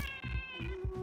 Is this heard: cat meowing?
yes